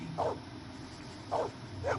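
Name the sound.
dog Maggie barking, from video game Blade Runner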